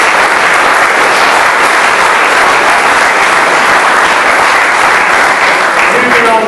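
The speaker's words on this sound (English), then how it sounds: "So give him a round of applause." A fans' forum audience at a football club applauding former manager Kevin Blackwell, loud continuous clapping from a packed room that holds steady throughout.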